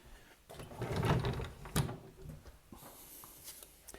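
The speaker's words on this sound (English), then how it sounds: "these obviously slide, the doors on the left slide the other way" Wooden sliding doors on an antique pine cabinet are pushed along their runners, giving a low rumbling slide with a sharp knock partway through, then lighter scraping and clicks, close and fairly quiet.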